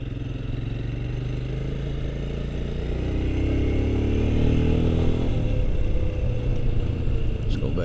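A 2022 Royal Enfield Scram 411 motorcycle cruises along a road, its engine a steady low rumble with wind noise that swells slightly partway through.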